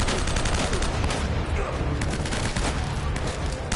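Sustained enemy gunfire in Uncharted: Drake's Fortune, a dense, loud, continuous volley of shots filling the whole stretch with little pause.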